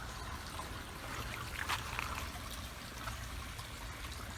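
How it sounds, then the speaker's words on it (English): Water trickling and running in a creek as hands are washed in it, a steady close broadband wash with small splashes, no voices. "I'm washing off my hands in the nasty looking creek."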